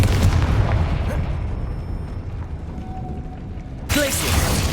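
A Confringo blasting spell from the Hogwarts Legacy game bursts as a deep, rumbling explosion with a heavy low boom that decays over several seconds, followed by a second sharp blast near the end.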